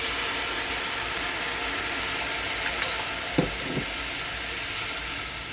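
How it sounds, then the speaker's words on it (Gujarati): Milk poured little by little into hot gond, edible gum, in a pan: a loud, continuous hissing sizzle, broad and steady throughout, with a couple of faint clinks partway through. "હવે તેમાં મેં 250 ગ્રામ 500 ગ્રામ જેવું દૂધ લીધું છે। થોડું થોડું નાખી દઈશું।"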